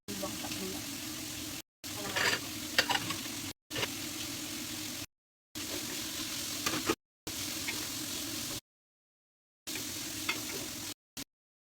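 Meat and onions sizzle steadily in a pan in a home kitchen, a continuous frying hiss broken by several abrupt silent cuts, with brief stirring clatter near the start.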